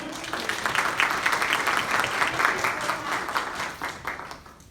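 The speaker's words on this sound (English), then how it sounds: "Give a round of applause." A lunch-and-learn audience at a Native American History Month event breaks into applause, a crisp burst of clapping that peaks quickly, holds for a few seconds, then thins and tapers off.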